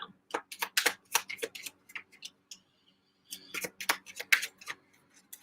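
Tarot cards shuffled by hand during a live reading, quick papery riffles and taps in irregular bursts with a brief pause in the middle, close and fairly quiet.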